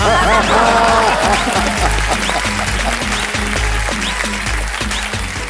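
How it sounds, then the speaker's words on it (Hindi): Studio audience applause on a business pitch show, steady clapping layered under loud music and show sound effects throughout. "तालियां बज जाए"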